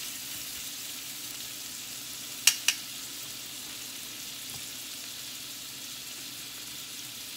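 Shrimp frying in a pan for a citrus shrimp salad, a steady close hiss of sizzling oil with two brief clicks of a utensil partway through.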